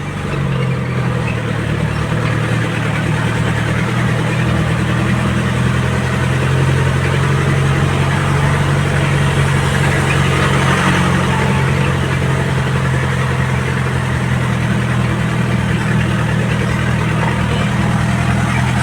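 A vehicle engine idles through a freshly welded exhaust pipe, giving a loud, steady, deep low rumble with constant vibration that holds unchanged from start to finish, with no talk.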